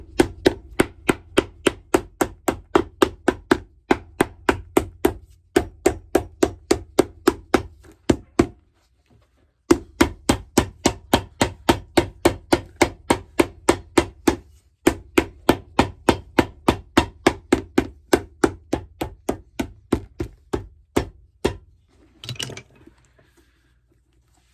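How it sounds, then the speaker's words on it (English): A hammer strikes vintage Vasque boots in fast, evenly spaced blows, close and loud, in long runs broken by brief pauses, ending with a short scuffing sound. "Hammer time!"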